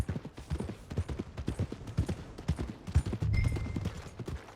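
Horse hooves clip-clop in a steady walking rhythm in Red Dead Redemption 2, a series of soft, near thuds with a brief low engine-like rumble toward the end.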